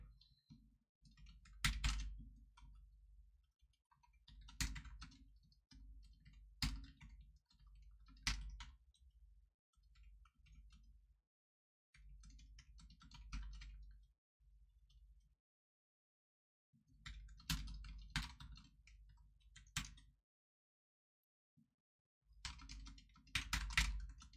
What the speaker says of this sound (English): I was typing my poll and something weird happened.